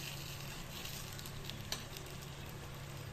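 Jute leaf fritters, made with semolina and rice flour, frying in a small amount of oil, giving a steady soft sizzle throughout with one brief sharper crackle midway.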